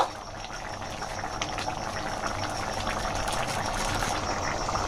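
Tadka with chicken mince bubbles in a pan, giving a constant close bubbling and hissing simmer that rises slightly in level and has no talk over it.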